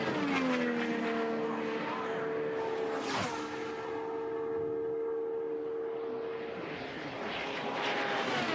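An IndyCar race car accelerates off a corner during Indy 500 qualifying, its engine a loud, steadily pitched whine with a sharp pass-by swell midway, carrying on without any talk.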